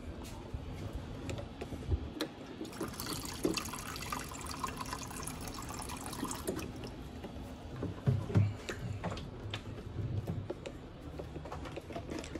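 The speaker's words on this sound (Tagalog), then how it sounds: "Dagdag ko ng tubig ulit." Water poured into a pot of saba bananas cooking in sugar syrup, a soft splashing and trickling with a few louder sloshes, close but fairly quiet.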